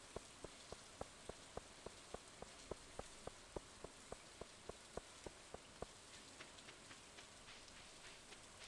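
Rain falling in Stardew Valley on a beach farm in autumn, a soft steady wash with a regular train of light ticking taps running through the first part, then fading to a gentle hiss, with no voices.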